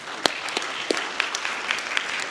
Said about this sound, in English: let's give a big applause to our speakers